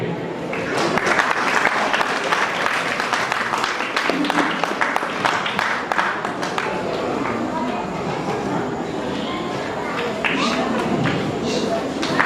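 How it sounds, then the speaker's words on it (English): Audience applause at a school annual day function, a dense burst of clapping that swells then thins slightly, with voices and scattered sharp claps mixed in near the front. "A loud round of applause."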